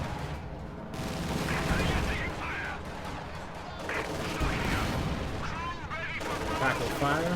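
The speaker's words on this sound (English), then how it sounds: "Mine detonates and ends up killing some conscripts." Explosions and battle noise from Company of Heroes 2, a World War II strategy game, as a mine detonates under Soviet conscripts, with gunfire and blasts layered under a commentator's continuous talk.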